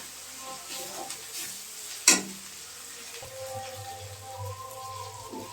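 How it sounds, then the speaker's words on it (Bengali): Spice paste (masala) frying in a pan for a Bengali thor (banana stem) curry with dal, a quiet steady sizzle close by, with a brief sharp clatter near the middle and low stirring noises. "মশলাটা একটু কষিয়ে নেব।"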